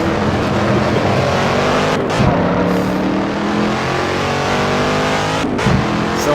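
An old car in the racing game Assetto Corsa revs hard, its engine note rising and falling through gear changes with brief dips around each shift, loud and close throughout.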